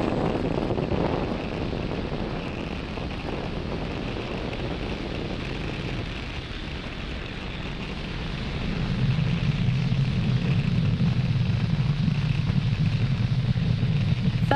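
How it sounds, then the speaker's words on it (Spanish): Falcon 9 rocket engines roaring during a launch of a Japanese HAKUTO lunar lander mission, a loud continuous rumbling roar with wind buffeting that swells and deepens partway through, no voices heard. "¿Cómo suenan esos motores?"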